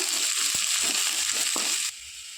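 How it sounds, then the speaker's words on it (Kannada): Onion, garlic and curry leaves frying in hot oil in a pan for Mangalore-style clam sukka, a loud steady sizzle with a couple of faint stirring taps, dropping a little in level near the end. "ಒಂದು ದೊಡ್ಡ ಗಾತ್ರದ ಈರುಳ್ಳಿ ಕಟ್ ಮಾಡಿ ಹಾಕೊಳ್ತಿದ್ದೇನೆ ಇದು ಫ್ರೈ ಮಾಡುವ"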